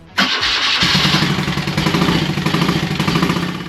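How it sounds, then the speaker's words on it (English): BMW R80ST motorcycle engine starting up after a carburettor rebuild, then settling into a loud, uneven idle with a lumpy, irregular beat from running on only one cylinder, heard close up with no talking. "you can clearly hear the bike is only running on one cylinder"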